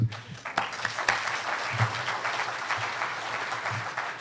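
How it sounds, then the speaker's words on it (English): An audience at an award ceremony breaks into applause, a dense, steady patter of many hands clapping close to the microphone for several seconds, with a few sharper individual claps standing out. "in absentia, we'll give them a cheer"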